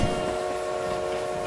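A train moving in the mobile battle royale game BGMI gives a steady, loud mechanical rumble with a sustained tonal hum running throughout and no talk.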